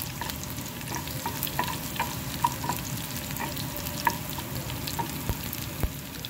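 Jackfruit puzhukku with grated coconut is stirred in a pan, making a steady sizzle under frequent light scrapes and taps of the spoon that run without a break throughout.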